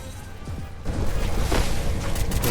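A sudden booming grenade blast in the game Free Fire kicks in after a quiet moment, followed by a sustained rumbling roar, loud and close.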